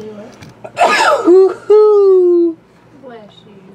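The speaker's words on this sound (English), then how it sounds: "I have to sneeze." A person's loud sneeze bursts out close by, with a sharp intake followed by a drawn, voiced release during a baseball and basketball card box break, and people talk just before and after.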